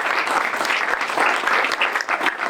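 Audience applause for a mayoral candidate at a press conference in Vittorio Veneto, a steady burst of clapping at moderate volume with no voices over it.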